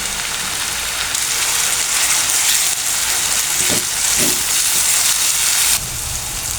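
Green chillies sizzle steadily in hot oil in a pan with onions already fried pink, a continuous loud crackling hiss with no talk.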